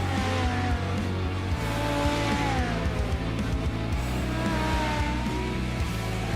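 Midget race cars lapping the I-55 Speedway track, their engines droning loud and close with shifting revs and overlapping motor tones throughout, and no voices.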